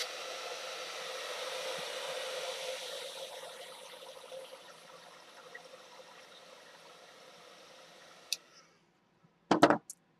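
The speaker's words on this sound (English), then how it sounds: "normally I do not like to blow dry my watercolors" A hair dryer blows over a watercolor painting, a steady airy whoosh that gradually fades and cuts off, followed by a couple of brief knocks and handling sounds near the end.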